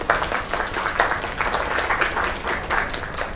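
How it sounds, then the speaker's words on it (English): An audience breaks into a round of applause for a singer at a performance, many hands clapping steadily and fairly close for a few seconds with no voices over it. "Another round of applause."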